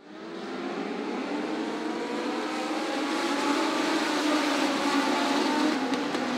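Legend race cars run at Sydney Speedway, a pack of engines droning steadily from mid distance, swelling in from near silence and holding a continuous buzzing roar.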